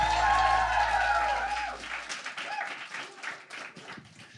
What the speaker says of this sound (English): Give yourselves a round of applause for making it out to the show.